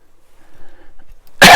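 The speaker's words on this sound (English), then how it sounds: "Excuse me, cough's not much better." A single sharp cough bursts out suddenly after near silence, loud and close.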